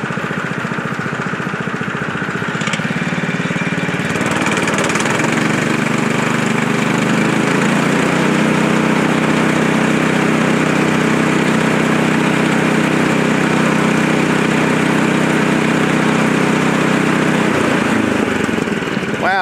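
The engine of a Frontier OS23 portable sawmill runs steadily at idle, a loud, close, constant mechanical drone, with a brief change in tone near the start and again near the end.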